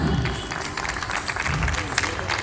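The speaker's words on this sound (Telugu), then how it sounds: "గట్టిగా చప్పట్లు కొడదాం." Congregation at a pastors' Christmas gathering clapping together, a brief burst of crowd applause mixed with a voice talking over it.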